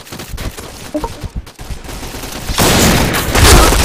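Rapid bursts of P90 gunfire in the shooter game Point Blank, loud and close, with choppy shots early that swell into a dense, sustained volley toward the end.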